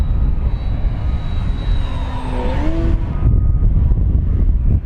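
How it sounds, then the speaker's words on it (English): A HobbyZone Arrows Husky SE 1800mm RC airplane on 5S power flies over a grass field, its steady electric motor whine and rising tones carrying under broad wind noise. "Yeah, this is a fun airplane."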